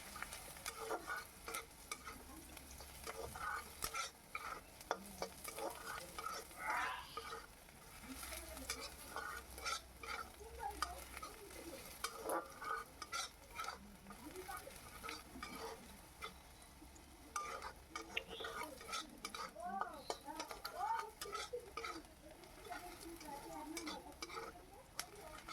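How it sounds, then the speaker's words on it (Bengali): Onions sizzle in a pan while a spoon or spatula stirs them in repeated scraping strokes, a soft continuous frying hiss under the clatter, close but fairly quiet, with no talking. "পেঁয়াজটাকে ভালো করে ভেজে নিতে হবে।"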